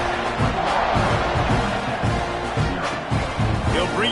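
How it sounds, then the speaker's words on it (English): Stadium crowd at a college football game (Texas A&M vs Georgia Tech) roaring steadily at a kickoff, a loud, dense wash of cheering voices that holds throughout with small surges. "this crowd now ready to get behind them"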